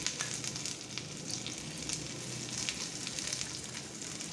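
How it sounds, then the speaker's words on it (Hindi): Ground spice paste for achwani frying in a hot pan, a steady close crackling sizzle with scattered sharp pops, continuous and fairly soft throughout, with no voices. "3 से 4 सेकंड में इसे थोड़ा सा फ्राई करूँगी"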